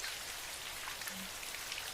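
Heavy rain drums steadily on a car at night, a dense, even patter of drops on the body and roof with no voices.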